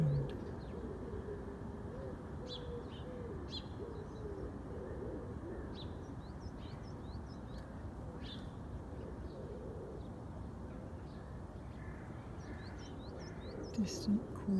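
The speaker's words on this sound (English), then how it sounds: "pigeon or dove cooing in a tree close by." Pigeon or dove cooing from a nearby tree outdoors, soft repeated low calls set against a steady wash of background noise, with small birds chirping faintly higher up.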